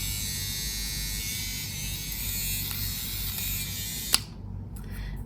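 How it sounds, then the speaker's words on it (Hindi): A steady electric hair trimmer buzz drones on without a break, close and even, with a single sharp click near the end. "ये क्या कहते हैं इसको, ट्रिमर, हेयर ट्रिमर, ये मैं यूज करती हूँ"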